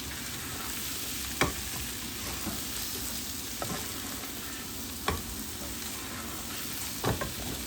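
Potato fry cooking in a pan over a low flame sizzles softly and continuously, with four sharp taps from a stirring utensil scattered across the sound.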